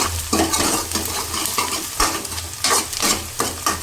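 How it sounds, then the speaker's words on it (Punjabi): Chopped onions fry in hot oil for a Jammu-style red rajma dish, a steady close sizzle under repeated scraping strokes of a spoon stirring the pan, with no talking. "ਹੁਣ ਇਹਨੂੰ ਪਿਆਜ਼ਾਂ ਨੂੰ ਚੰਗੀ ਤਰ੍ਹਾਂ ਭੁੰਨਾਂਗੇ ਤੇਲ ਦੇ ਵਿੱਚ"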